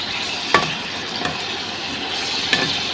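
Pork ribs fry in a pan with fish sauce, a steady sizzle running throughout, broken by three sharp utensil scrapes or clinks against the pan; no one speaks.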